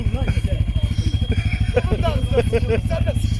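ATV 4x4 engine revving at a jeep offroad festival in Ordu, a close throbbing motor pulsing in quick bursts while people shout and talk excitedly over it.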